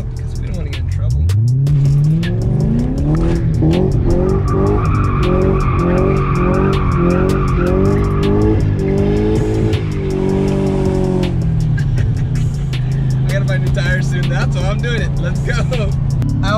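A BMW E34 doing a donut, with loud sustained tire skidding and squeal over a revving engine that rises and falls for most of the stretch, then eases back to a steady idle-like drone.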